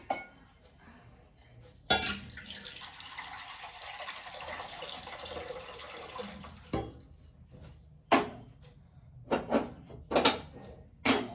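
Water runs from a kitchen tap to be heated, a steady rushing stream lasting several seconds, followed by scattered clinks of pots and dishes nearby.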